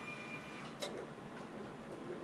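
An embroidery machine stitching a Halloween in-the-hoop mug rug produces a steady mechanical whir with faint rhythmic ticking and a brief sharper knock early on, heard close.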